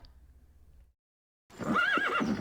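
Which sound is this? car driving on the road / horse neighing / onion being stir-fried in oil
horse neighing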